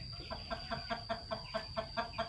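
Chickens cluck repeatedly in a rhythmic series of short calls in an area of a rural farm where meat chickens are raised, moderately near, with a steady high hum in the background and no talk.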